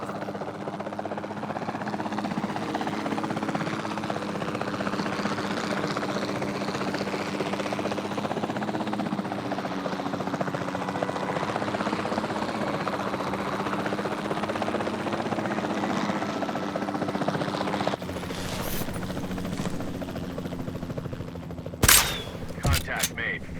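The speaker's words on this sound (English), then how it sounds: "We'll start by tranquilizing one of the dinosaurs from the helicopter" A helicopter in Jurassic World Evolution 2 gives off a loud, steady rotor thrum and whine throughout, ending with a few sharp bursts near the close.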